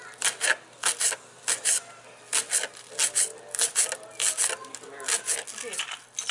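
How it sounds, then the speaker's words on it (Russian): A knife finely chops green onions on a board in quick, uneven rhythmic taps that run continuously, close by and fairly loud. "Теперь режем мелко пару зеленого лука"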